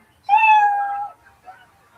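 A single clear, loud cat meow plays as a one-minute comedy timer, a drawn-out tonal cry lasting under a second against near silence, followed by a faint trailing murmur.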